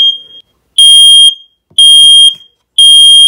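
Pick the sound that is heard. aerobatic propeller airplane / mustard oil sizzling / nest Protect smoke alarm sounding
nest Protect smoke alarm sounding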